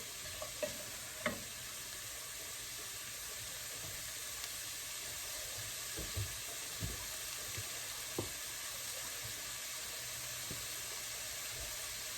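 Vegetables sizzle steadily in a hot pan while a utensil stirs them in scattered scrapes and taps, moderately close and fairly quiet, with no voices.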